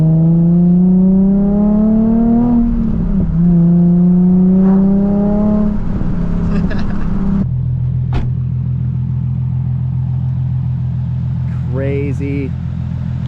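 A car engine revs up, its pitch climbing and dropping through a strong throaty note, then settles into a lower steady idle rumble, close and loud, with a short burst of talk near the end.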